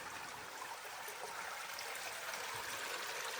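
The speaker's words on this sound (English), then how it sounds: "Like a little creek here." Water trickles and burbles steadily in a small creek near Trillium Falls among ferns, a continuous close rushing sound with no voices.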